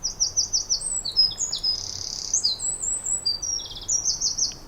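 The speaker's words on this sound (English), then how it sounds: "It plays the songs of many British birds." Wren song played from a phone bird-song app outdoors, rapid high trilling phrases repeated in quick bursts, clear and fairly close over a quiet background.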